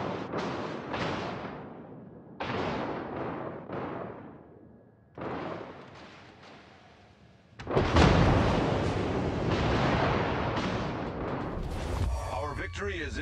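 Naval artillery fire from warships in the World of Warships game, heard as a series of heavy booming blasts with long rumbling decays, then a denser, sustained roar of gunfire; a voice speaks in places.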